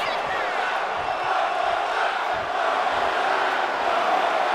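Wrestling arena crowd roaring in hostility at the Lioness champion, a dense, sustained wall of shouting and jeering that holds steady and loud throughout without a break.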